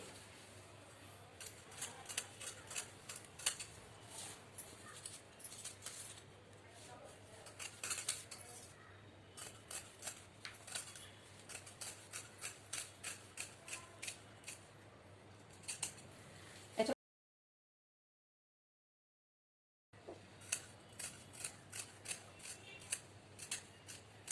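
Scissors cutting shirt fabric for a men's shirt, a quiet close series of crisp snipping clicks in rhythmic bursts, briefly interrupted by silence before the cutting resumes.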